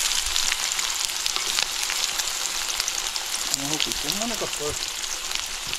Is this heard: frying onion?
yes